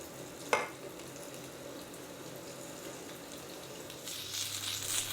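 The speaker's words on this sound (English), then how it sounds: "add gyoza to the fry pan" Pork gyoza set into an oiled pan at mid-high heat, a soft sizzle under a single sharp clack as they go in, growing louder hiss near the end, no talk.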